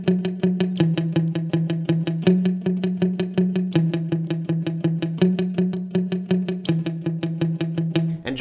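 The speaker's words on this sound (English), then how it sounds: "there's a minimalistic eighth note guitar pattern, switching in between two different notes." Distorted electric guitar picking a steady, even eighth-note pattern, alternating between two notes in a repeating cycle, loud and close.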